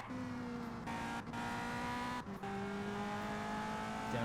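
A race car in the Indianapolis 500 Evolution game, at the 1965 Riverside 300, holds a steady engine drone, with brief dips as the driver quickly drops through the gears and the pitch steps back up.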